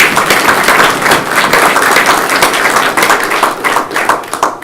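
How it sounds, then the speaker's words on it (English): Hearty, dense applause from an audience at an annual parish meeting at Christ & St. Luke's Church, steady and loud throughout the short burst, with no talk over it. "We owe them some applause and thanks."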